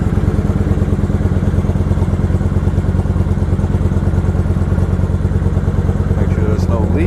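A Kawasaki Vulcan 900 motorcycle idling close by after a gas tank refit, its engine thumping in a steady, even loping rhythm throughout with no revving.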